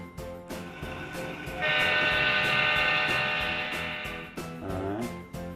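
Model train running on a model railroad, with rhythmic clicking on the track and a loud sustained horn blast in the middle, then a shorter whistle toward the end; no talking.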